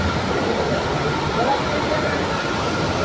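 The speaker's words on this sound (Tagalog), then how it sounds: "Sobrang lakas ng ulan ngayon." Heavy rain pours down amid flooding near an LRT line, a dense, steady roar that stays loud and unbroken throughout.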